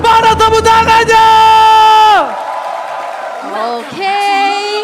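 A large esports arena crowd at an MPL Arena match between Aurora and Onic whoops and yells loudly with sustained tonal shouts, then drops to a lower, steady murmur before rising again with voices.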